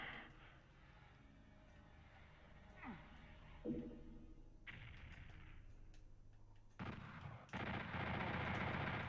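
Chain gun fire and other weapon blasts in the video game Doom, scattered shots over low game ambience that build into a dense, loud stretch of rapid firing near the end.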